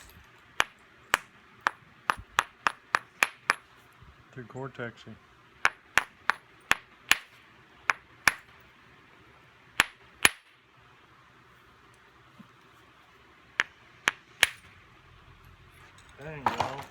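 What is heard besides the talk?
hammer hitting a hard object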